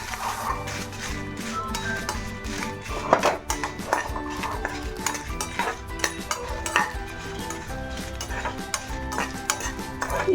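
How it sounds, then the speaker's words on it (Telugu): Dried red chillies being roasted in a pan for ginger chutney: a continuous scrape and clatter of stirring against the metal pan, with a light sizzle, close and steady throughout. "ఈ ఎండుమిర్చిని బాగా వేపుకుందాం."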